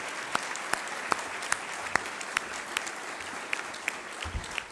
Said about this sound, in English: how about a round of applause for our speaker and Ivanka